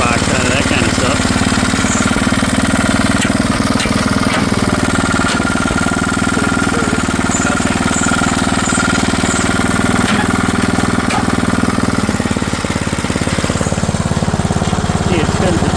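A garage-find roto tiller's engine runs steadily and loudly up close with its tines spinning, a constant droning rattle throughout while a voice talks faintly underneath.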